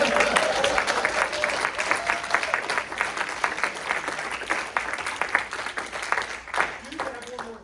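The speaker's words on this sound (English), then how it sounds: "give me a round of applause" Audience at a retirement ceremony breaks into sustained applause, many hands clapping steadily and fairly close for several seconds, with a few voices and cheers mixed in near the end.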